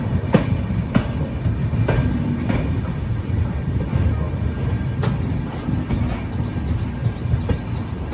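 Running passenger train near Ratlam Junction on an Indian rail journey, a steady low rumble of wheels and carriage with faint periodic rail clacks throughout, no talking.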